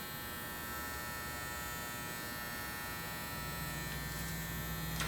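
An electric hair clipper buzzes steadily during a clipper-over-comb haircut, a constant mid-level motor drone with a slight pitch shift near the end and no speech.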